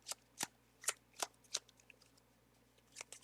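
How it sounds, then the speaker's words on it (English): A deck of Magic: The Gathering cards being riffle-shuffled during a four-player commander game, with a run of crisp, close snapping bursts that repeat in quick succession and then come again after a short pause, heard without talk. "I'm gonna just shuffle these up"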